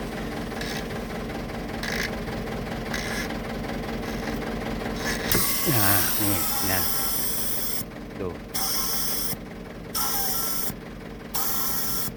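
A charcoal blower's suction runs with a steady rushing whir, then cuts in and out in short bursts as it is tested, under someone talking nearby.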